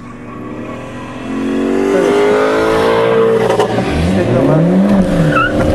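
Race cars passing on a track at a Clubman S event at HPR, loud engines revving and accelerating with rising and falling pitch sweeps as several cars go by close, a brief tire squeal near the end.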